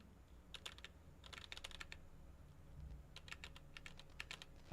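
Computer keyboard keys are pressed in short bursts of quick clicks during a restart of a newly built studio computer, faint and close over a steady low hum of fans.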